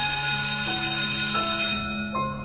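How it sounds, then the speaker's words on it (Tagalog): An electric bell ringing in a school room, a sustained steady metallic tone that holds for a few seconds and then fades, heard alone with no talking. "biglang nag-ring yung bell."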